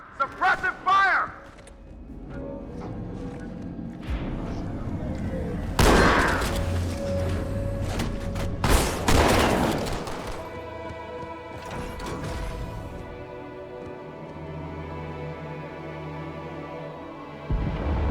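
Suppressive gunfire rattles in bursts during a battle in Halo 2, with sharp shots and thumps mixed among shouted voices, louder blasts flaring midway before the scene settles into a low rumble.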